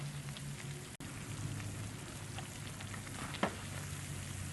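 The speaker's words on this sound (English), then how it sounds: "definitely don't want our oil to be frying our dumpling too slow" Jamaican fried dumplings, or johnny cakes, frying in hot oil, giving a steady, quiet, rain-like sizzle with faint crackles and one brief pop, with no talking.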